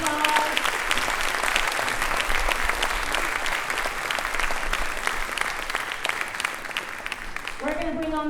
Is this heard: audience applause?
yes